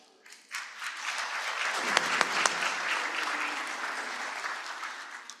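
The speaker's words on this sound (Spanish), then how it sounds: "para quien pido un fuerte aplauso." Audience at a university event on artificial intelligence and education bursts into steady applause after a brief pause, the clapping swelling quickly and holding loud and dense with no talk.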